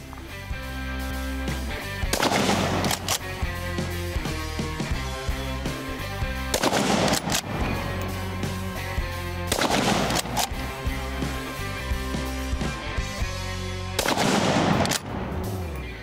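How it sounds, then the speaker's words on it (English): Savage Arms Impulse straight-pull rifle shots fired at targets downrange, four loud sharp reports spaced a few seconds apart, each with a rolling outdoor echo. "reacquire, get a couple shots."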